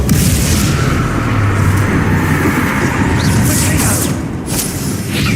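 A Bombarda explosion spell goes off in Hogwarts Legacy as a loud, dense booming blast, with rumbling impacts and crackling debris over a sustained roar and a few brief sharper hits.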